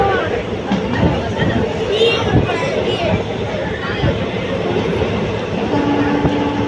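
Passenger train on the Madurai to Tenkasi line running with a loud continuous rumble and rattling wheel clatter heard from on board, with voices and crowd murmur underneath.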